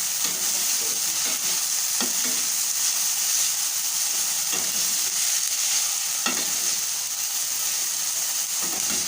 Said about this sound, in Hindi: हरी मिर्च को भी, प्याज को भी, सब चीज़ को हल्का हल्का सा फ्राई करेंगे